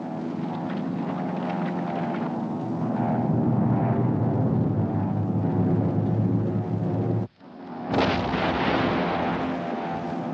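Bombing and artillery fire in a Slovenian war drama, a loud continuous roar of rumbling explosions and aircraft drone that cuts out sharply for a moment and then resumes with a fresh blast.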